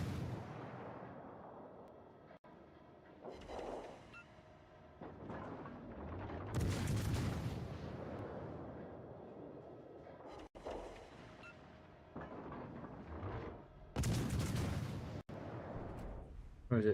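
Warship guns fire armour-piercing shells in a naval video game, several deep booms spaced apart with rumbling tails, heard fairly faintly beneath occasional talk.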